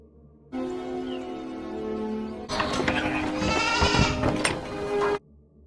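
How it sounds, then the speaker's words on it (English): A sheep on a farm, held under threat of a nail gun, bleats loudly and close by in two long, wavering cries, the second harsher and more strained. "Mike Hanlon is threatening to kill a sheep with a nail gun by his grandfather Leroy"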